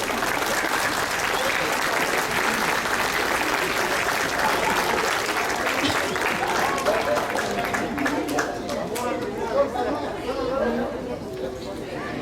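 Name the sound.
audience applause welcome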